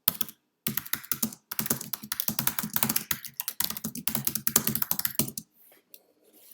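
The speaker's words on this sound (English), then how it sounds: "I'm typing quite quickly, hence a few typos here" Rapid typing on a computer keyboard, a dense stream of crisp key clicks with brief pauses between bursts, close and clear, ending in near silence.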